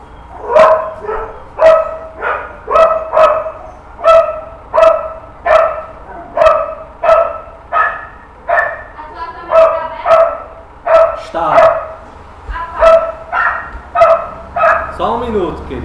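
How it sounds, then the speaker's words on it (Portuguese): A pet dog barks repeatedly in a steady rhythm, loud and close, around a dozen sharp barks with a few whimpery yips near the end, and people speak at the same time. "Thaísa, pega a tua cachorra aqui e bota no carro"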